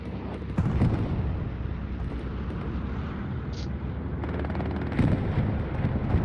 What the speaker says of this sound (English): And the bombing run.